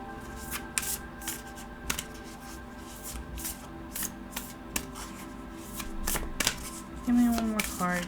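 Tarot cards are shuffled close up in repeated quick riffling bursts and sharp card snaps, with a brief soft vocal sound near the end.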